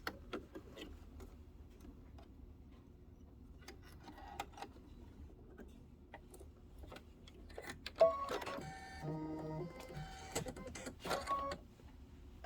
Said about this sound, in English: it's going to do that really fun sewing stitch